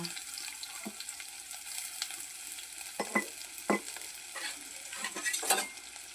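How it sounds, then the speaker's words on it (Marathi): Garlic and curry leaves fry in oil, a quiet steady sizzle broken by several sharp stirring scrapes and clinks of a spoon against the pan. "त्याला छान परतून घ्यायचं। असं चॉकलेटी कलर येईपर्यंत परतायचं।"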